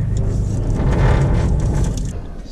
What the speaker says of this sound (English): I also have some footage of me rubbing when I'm turning